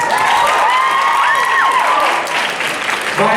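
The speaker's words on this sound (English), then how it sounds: "Another round of applause for Sophia." An audience at a school talent show applauds a violinist, a dense, steady wash of clapping close by throughout, with faint whistling tones riding above it.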